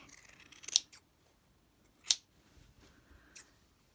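Scissors snip through a vintage doily in three separate, crisp cuts spaced across a few seconds, each a sharp close metallic snap against a quiet room.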